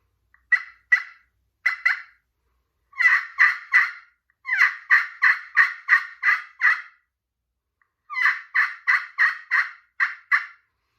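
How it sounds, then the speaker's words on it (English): Turkey pot call with a walnut pot, crystal surface and slate soundboard, scraped into bursts of sharp yelps in runs of two to seven, loud and close with short pauses between runs. "You've got a walnut pot, crystal surface, and then a slate soundboard"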